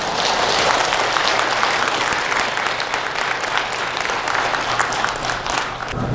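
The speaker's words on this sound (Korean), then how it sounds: "다시 한번 여기 주신 분님께 큰 박수 한번 보내주시죠" Sustained audience applause in a Catholic cathedral setting after a lecture, a dense steady clapping from a crowd that holds evenly throughout and fades only slightly toward the end.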